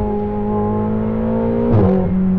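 A Ferrari 488 GTB with an Akrapovic exhaust hums at a steady, tonal idle-like pitch, then gives a sharp, brief rev blip as it shifts down to second gear, close and loud.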